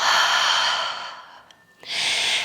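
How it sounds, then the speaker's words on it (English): Deep, loud breathing during a full body resistance band exercise class, a long airy exhale tapering off, a brief pause, then a fresh strong breath beginning. "Take a lovely breath in. Inhale and exhale."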